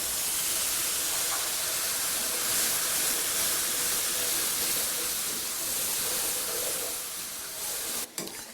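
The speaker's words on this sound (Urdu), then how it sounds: "تمام مسالوں کو ہم اچھے سے بھون لیں گے۔" Spices and tomato paste fry in a hot pan for a halwa puri chickpea curry, giving a steady, loud, continuous sizzle that runs unbroken and ends with a brief clatter.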